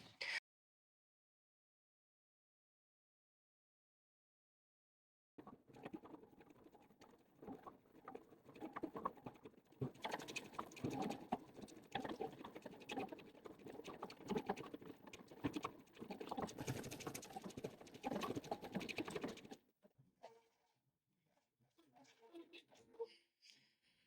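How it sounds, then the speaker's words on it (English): An embroidery machine stitching an outline to hold a square cotton fabric insert in place, giving a fast, steady rattling patter that starts abruptly after a silent stretch, runs for about fourteen seconds, then stops. "it's stitched out the outline of where the stitches are going to go to secure the fabric in place"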